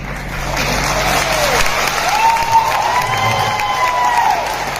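A crowd at a live speech event in Prayagraj (Allahabad) claps and cheers steadily for about five seconds. A rising and falling whistle-like tone rides over the dense, moderately loud applause.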